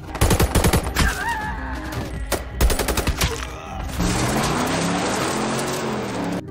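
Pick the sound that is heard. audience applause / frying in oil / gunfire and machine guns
gunfire and machine guns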